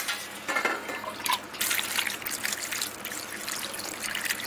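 Raw pointed gourds (parwal) being washed in water, with a steady trickle and splashing of liquid close by, brief louder swishes as the vegetables are rubbed and moved.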